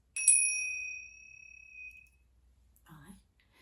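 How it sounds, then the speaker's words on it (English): Small meditation cymbals, struck together once, ring with a bright, clear ding that fades slowly over about two seconds, followed by a soft murmur of voice. "this is the sound that I'm going to use these cymbals"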